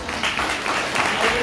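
A church congregation claps hands during a Hindi prayer service, a dense, steady patter of many hands that holds loud through the short moment, with a voice speaking over it.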